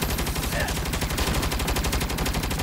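Rapid automatic turret gunfire in the Saints Row video game, a dense, loud, unbroken burst of rattling shots with heavy low thumps throughout.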